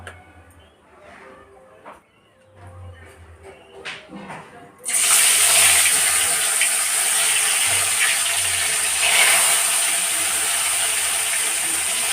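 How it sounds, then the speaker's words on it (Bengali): Faint kitchen clatter gives way to a sudden, loud, steady sizzle of tilapia fish frying in hot oil, crackling on without pause. "এবার আমি মাছগুলো ছেড়ে লাল লাল করে ভেজে নেব"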